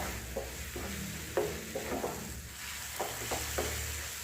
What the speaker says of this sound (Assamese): এইখিনি ভালদৰে মিক্স কৰি ভাজি থাকিম